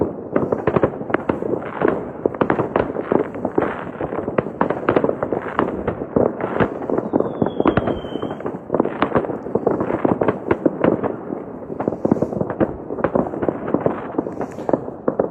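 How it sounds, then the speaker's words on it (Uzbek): Rapid, dense bursts of salute fireworks cracking and popping continuously, loud and close, with barely a pause between blasts, in Oltiariq, Uzbekistan. "Maxsus Oltiariqdan salyutlar."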